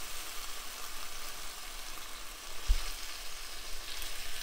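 Lettuce wrap filling with minced ginger sizzles steadily in a hot pan, a constant frying hiss with a single soft stir or scrape partway through, close and moderately quiet with no talking.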